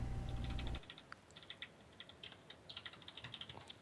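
Computer keyboard keys clatter in quick irregular bursts after a short opening swell of noise, light and close, with no voices.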